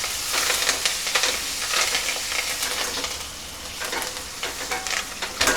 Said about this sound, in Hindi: अभी मैंने अदरक और लहसुन का कूट के रेडी किया था वो डाल रही हूँ, 1 चम्मच जितना है वो। अभी मैं उसमें तुरंत ही डाल दूँगी अपने खड़े मसाले,